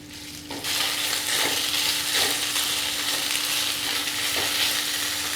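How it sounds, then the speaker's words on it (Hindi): Marinated chicken sautéing in one to two tablespoons of oil over a high flame: a loud, steady sizzle and crackle with occasional stirring scrapes, continuous throughout. "1 से 2 टेबलस्पून ऑयल ऐड करके हम इसमें चिकन ऐड कर देंगे जो हमने मैरिनेट करके रखे थे। फ्लेम को हमने हाई रखा है। हम हाई फ्लेम पर 1 मिनट इसे सौटे करेंगे।"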